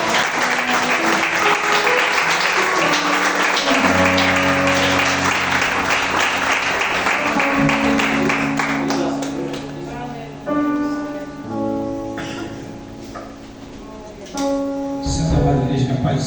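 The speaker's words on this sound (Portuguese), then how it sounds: "com a sua salva de palmas glorifiquem ao Senhor" A church congregation claps together during a Nehemiah campaign service, a full, sustained round of applause that gives way after several seconds to music, with brief bursts of clapping returning near the end.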